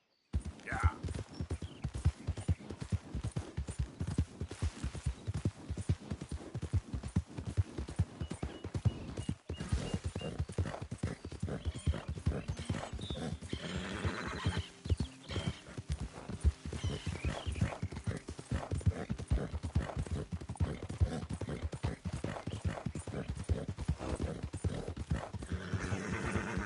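Horse hooves clip-clop steadily in the Red Dead Redemption 2 video game, a continuous close rhythmic trot with whinnies, while someone speaks over it.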